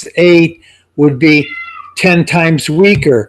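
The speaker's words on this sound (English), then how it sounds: "sorry for the cat in the background" A house cat meows in the background while someone speaks over it, with a short high meow heard during a pause between his phrases.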